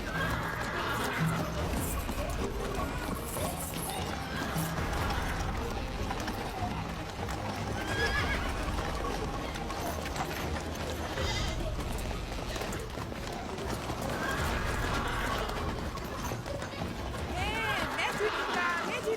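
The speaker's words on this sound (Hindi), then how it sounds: "जल्दी करो, मेरा घोड़ा ले जाओ।" Horses neigh and hooves run in a dramatized scene, whinnies rising above a busy mix of animal bleats and movement, under loud overlapping voices throughout.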